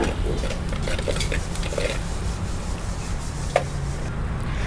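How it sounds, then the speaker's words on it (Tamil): Onions and ginger sauté in a pot for a village-style country chicken curry, with a utensil rubbing and scraping around the pot over a continuous frying hiss, close and moderately loud. "இஞ்சி ஆட் பண்ணிவிட்டு நல்லா வதக்கி விட்டுடலாம்."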